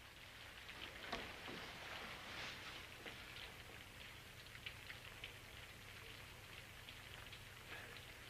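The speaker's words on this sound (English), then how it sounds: "Gets kind of cold out there in the rain." Steady rain patters down with scattered louder drips, a soft continuous hiss at a moderate distance, no one speaking.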